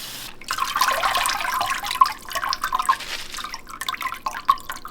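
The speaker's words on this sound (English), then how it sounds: "I'm washing the cabbage, and I will wash it as many times as needed until the water runs clear from our spinner bowl" Tap water runs and splashes as cabbage is washed in a spinner bowl, a steady close trickle with irregular drips and sloshes and no talking.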